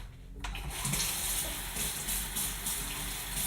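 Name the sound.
asparagus rinsed under running tap water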